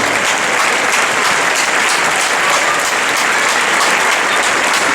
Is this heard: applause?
yes